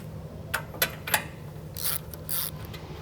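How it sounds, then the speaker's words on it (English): A few sharp ratcheting clicks, then quicker bursts of metallic rasping as a ratchet wrench removes a snow blower's spark plug, close by with a low hum underneath. "we're going to begin by popping off the wire and removing the spark plug"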